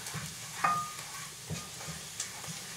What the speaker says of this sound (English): I've just been stirring constantly here to make sure that nothing burns in the pan